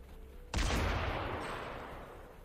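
A turret in the video game Cataclysm DDA fires a single loud, sharp shot that decays over a couple of seconds, heard alone without talk.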